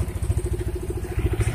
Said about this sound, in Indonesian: Ini posisinya motor udah nyala dan tenaganya udah pulih